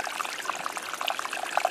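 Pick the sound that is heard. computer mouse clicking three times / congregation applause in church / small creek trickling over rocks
small creek trickling over rocks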